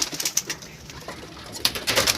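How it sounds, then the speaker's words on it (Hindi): Pigeons coo softly nearby in short throaty bursts, with faint rustling around them and no voices. "ये देख लें आपके सामने सब कबूतर हैं।"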